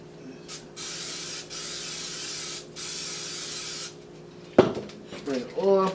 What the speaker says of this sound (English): Spray the oil, put the butter on top of that.